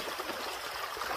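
River water flows and trickles close by at a Slovenian river, a steady bubbling wash with no talking.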